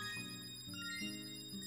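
A bell prize chiming in the video game Kirby's Epic Yarn, a soft, quiet run of bright electronic tones stepping through a few pitch changes under the game's steady background music, with no talking.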